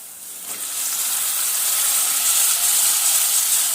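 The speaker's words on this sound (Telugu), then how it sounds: "ఇప్పుడు వంకాయలు వేసేద్దాం" Pieces of brinjal hit a hot oiled pan and fry with a loud, steady hiss and sizzle that rises quickly and holds, alone with no talk.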